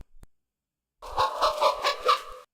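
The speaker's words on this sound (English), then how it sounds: "I tried to pick up the ghost chicken and it just clucked in a ghostly way" Ghost chicken from The Secret of Monkey Island clucking in an eerie, warbling way, a run of several clucks over about a second and a half, loud and close after a short tap and a gap of silence.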